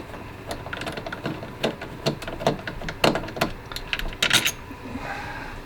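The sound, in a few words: screws being taken out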